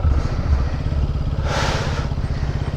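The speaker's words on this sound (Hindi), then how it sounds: "अब लग रहा है कि फंस जाएगा मेरा बाइक।" A motorbike engine on a North Sikkim mountain ride revs steadily while its wheels bog down in deep sand, a continuous close mid-pitched drone with a brief louder surge in the middle.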